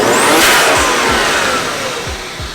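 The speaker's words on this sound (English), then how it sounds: "the turbos sound a little louder from the front" A loud twin-turbo 1JZ engine with a new downpipe revs hard with a rushing turbo whoosh and whistle over a pulsing low throb, gradually easing off.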